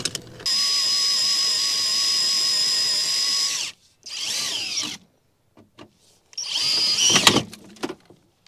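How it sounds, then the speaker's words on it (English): A power drill bores out a screw dimple on a 2001 Ford Explorer window switch, giving a loud steady whine, then two shorter bursts separated by pauses, close by with no talk. "I'm gonna drill this dimple out."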